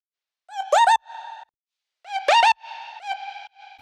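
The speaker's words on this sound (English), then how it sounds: "It's kind of like a gritty tape sounding distortion that sounds really good on vocal chops." Chopped vocal sample run through Waves J37 tape saturation for gritty tape-style distortion, in a Skrillex and JOYRYDE style remake: two short bursts of pitched, bending vocal syllables followed by held tones, with no talking.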